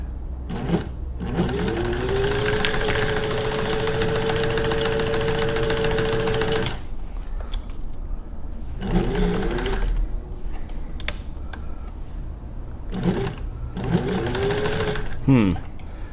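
A Singer 15-91 sewing machine runs with its clutch wheel open, whirring loudly for about six seconds and then in several shorter bursts, with a voice heard between the runs.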